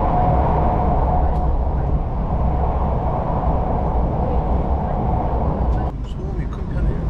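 Steady low rumbling and rattling inside a moving Malaysian ETS Platinum train carriage, continuous and fairly loud throughout.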